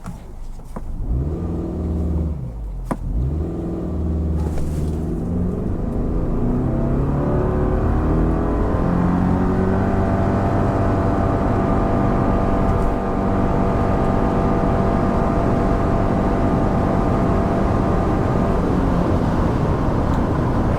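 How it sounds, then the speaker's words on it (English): A 2025 Subaru Forester Touring with traction control off accelerates hard from a brake boost, its engine rising to a loud, steady drone that holds near peak revs for most of the stretch. "doing to try a quick acceleration while nobody is behind me, I'm just going to turn off traction control, and then I'll just do like a quick brake boost"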